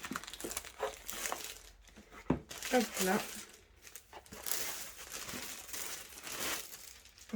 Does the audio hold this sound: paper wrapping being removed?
yes